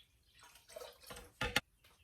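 Brewed kombucha tea is poured into a jar at home, a quiet trickling splash that builds to a short louder gush before stopping.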